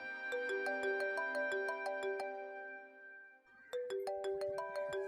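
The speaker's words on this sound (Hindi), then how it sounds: "नायला का फोन है" A melodic phone ringtone plays a bright repeating chime pattern, pauses briefly, then starts again, clear and close with no voices.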